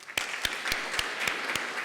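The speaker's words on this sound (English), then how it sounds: "a round of applause for our keynote speaker" Applause for a keynote speaker at an academic conference, a short, steady burst of clapping from the audience with a few sharp, distinct claps standing out over the crowd.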